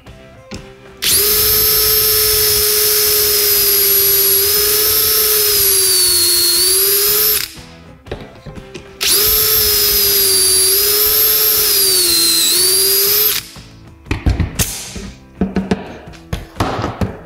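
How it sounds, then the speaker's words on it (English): A Kreg 300-Series pocket-hole jig drill bores pocket holes into hardwood in two long, loud, steady whining runs. Each run ends with a pause, and brief rattles and clatter come after. "Just drill part way in, pull the bit back a little bit to clear the chips"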